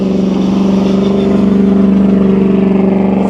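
Offroad race cars on the Cliffhanger Road Runner Offroad stage, a loud, close, steady engine roar with a throbbing rumble that holds for several seconds as they go by, no voices.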